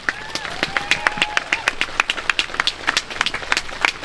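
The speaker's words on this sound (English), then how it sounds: "A round of applause for all of us." Audience applause at a May Day workers' rally in Manchester, New Hampshire: a steady burst of many hands clapping with sharp, dense claps running through the whole stretch, and a voice or cheer briefly rising over it near the start.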